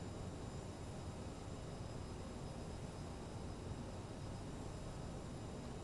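CRJ jet engines in Microsoft Flight Simulator, a steady broadband roar with a thin high whine, constant and unbroken throughout, no voices.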